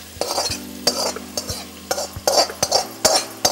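Tomatoes sauté in a pan, a loud sizzle cut by repeated sharp utensil knocks and scrapes in an uneven stirring rhythm.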